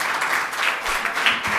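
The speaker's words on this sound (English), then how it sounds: "And a great applause goes to all of them" An audience at a leadership training summit graduation ceremony gives graduates a dense, steady round of clapping that fills the whole moment at close range.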